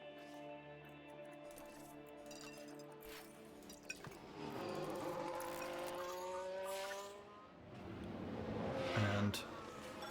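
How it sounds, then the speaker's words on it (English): In the F1 Manager 2022 video game at the Singapore race, engines roar and whine continuously with tire squeals and a few metallic clanks of cars colliding, over a steady layer of racing noise. "Sounds like a few cars have crashed."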